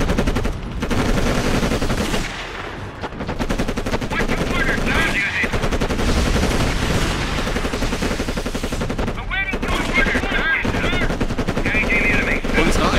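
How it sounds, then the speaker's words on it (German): Sustained machine-gun bursts and gunshots from the Cold War strategy video game Codename Panzers Cold War, loud and dense for the whole stretch, with chirping effects and battle noise layered over the rapid fire. "Unsere Einheiten stehen unter Beschuss"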